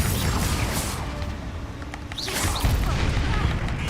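A Confringo fire spell explosion in the video game Hogwarts Legacy, a booming blast amid busy combat noise, followed by another impact, with a voice speaking over the fight.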